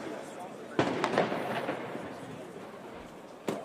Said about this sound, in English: Projectiles and grenades launched by police.